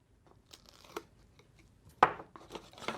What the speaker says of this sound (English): take the red liner tape off